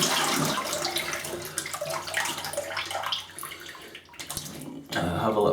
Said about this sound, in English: Let me just rinse a little bit.